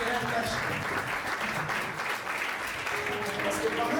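A church congregation claps and cheers to acclaim the Lord during an evangelical worship service, a dense, steady wash of applause throughout with voices mixed in.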